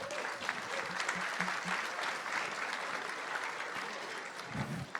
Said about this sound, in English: let's get a quick round of applause for that